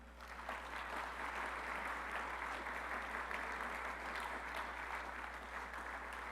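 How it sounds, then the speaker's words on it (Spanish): A church congregation applauds in praise during a sermon, a broad, even wash of clapping sustained for several seconds over a steady low electrical hum, heard from a distance. "Denle un aplauso al Señor."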